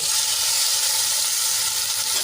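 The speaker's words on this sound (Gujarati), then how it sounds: "એક ચમચી લસણ અને મરચાંની પેસ્ટ એડ કરીશું" Garlic and chili paste sizzles in hot oil already holding popped mustard seeds, cumin and a pinch of asafoetida, a bright, continuous crackling hiss with no talk over it.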